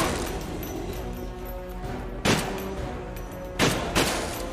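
Gunfire from the video game Eternal Evil: a few sharp, loud shots ring out over a dense, steady backdrop of in-game noise, with the blasts spaced unevenly across the stretch.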